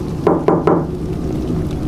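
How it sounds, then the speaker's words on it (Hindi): Three quick, evenly spaced knocks on a window, close and sharp, followed by quiet room ambience. "खिड़की पर कोई दस्तक देता है।"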